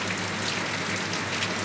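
Rain falling late at night, a continuous even patter and hiss of drops on surfaces, close and steady throughout with no talking.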